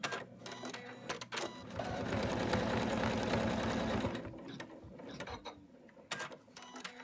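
An embroidery machine stitches black fabric down for four Santa boots, a rapid steady mechanical whirring and clatter that swells in the middle and then gives way to scattered clicks and knocks.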